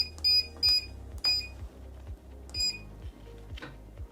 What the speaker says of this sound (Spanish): Para quitar el pitido de los botones, pulsamos asterisco y 6.